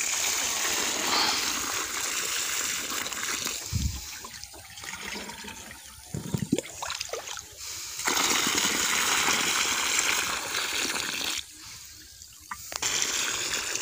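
Tubewell water pours onto a young jamun plant, a loud continuous rushing and splashing stream that dips briefly twice, then surges back.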